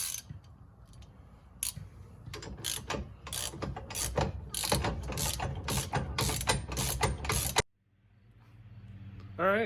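Rapid ratchet clicking in repeated bursts as shock bolts are tightened on a 1949-1953 Ford during rear lowering work, close and loud, stopping abruptly before a faint low hum.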